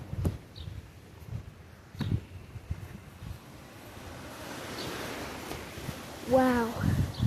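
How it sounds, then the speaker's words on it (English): Strong outdoor wind blows steadily and buffets the microphone, with gusts rising toward the end and scattered thumps and rustles throughout. "Oh my, this is bad wind."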